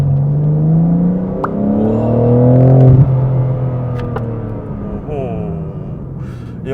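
A 2025 BMW M4 CS accelerates hard on a drive, its engine note climbing steadily through revs with shift drops, heard from inside the car with someone talking over it.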